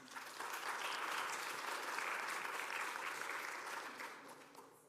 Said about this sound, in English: Round of applause to Diane.